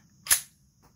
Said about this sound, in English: To reinstall the slide, simply line it up with your guides there, pull back.